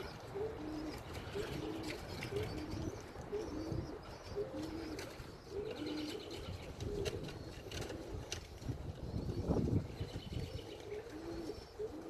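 Racing homer pigeons coo in soft, repeated low phrases close by outdoors, with someone talking intermittently over a faint backdrop of other birds' chirps.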